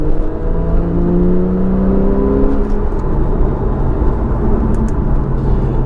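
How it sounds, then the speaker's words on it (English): A Porsche 911 with a sports exhaust revs up with a rising, throaty exhaust note, then settles into a loud steady whir of driving. "This one has the sports exhaust system, which is worth every penny."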